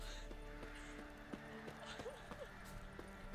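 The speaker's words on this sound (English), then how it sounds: "That's my horse." A horse's hooves clip-clop in The Witcher 3: Wild Hunt, an irregular string of faint, dull hoofbeats against a low ambient game background, with a voice speaking quietly over them.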